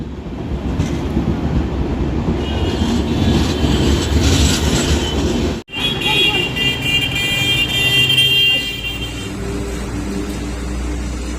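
An Indian Railways train rolling between Firozabad and Etawah, heard from inside as a loud, steady rumble with wheel clatter and occasional squeal, broken by one brief sharp drop, and a faint murmur of passengers beneath.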